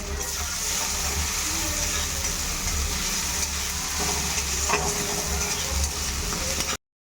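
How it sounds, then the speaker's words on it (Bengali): Fish curry broth bubbles at a rolling boil in a pot, a close, continuous, wet bubbling and faint sizzle that holds steady for seven seconds. "ঝোল একদম ফুটে রেডি"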